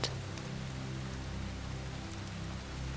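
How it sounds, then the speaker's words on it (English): Rain drums steadily against a window, a soft, even wash of patter with a low rumble beneath, faint and continuous. "the steady drumming of the rain against the window"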